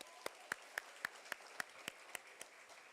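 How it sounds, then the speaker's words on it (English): Ten slow, evenly spaced claps ring out one at a time, faint and a little distant, then stop, at a high school sports banquet. "can y'all guys give them a round of applause"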